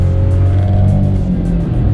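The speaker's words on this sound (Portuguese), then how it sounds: "o ruído do motor invadir bastante a interior do carro" Steady low engine drone heard from inside a VW Polo 1.0 Track hatchback, a continuous rumbling hum with faint variation over a couple of seconds, loud and close with no talk over it.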